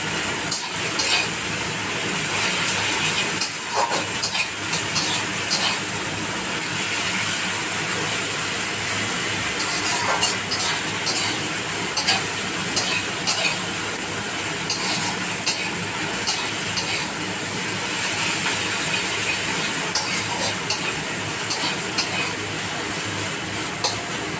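Garlic and ginger paste sizzles steadily in hot oil in a pan, a continuous close frying hiss with occasional stirring clinks, no one speaking.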